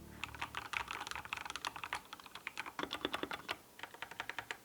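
Typing on a HyperX Alloy Rise 75 gaming keyboard with linear red switches, a quick run of close, crisp keystrokes in uneven bursts with short pauses, dry and soft-edged with no ringing or rattle.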